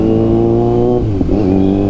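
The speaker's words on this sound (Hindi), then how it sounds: "पहले बाइक स्टार्ट करता हूँ फिर निकलता हूँ।" A TVS Apache RR 310 motorcycle idles loud and close after a cold start, its engine holding a steady humming tone, then a brief rev blips and the idle settles back.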